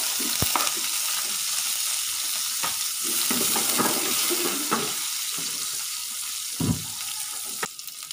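Curry leaves and onion go into hot oil for sambar, giving a steady moderate sizzle with a few sharp pops and stirring clatters across the whole stretch, no talking.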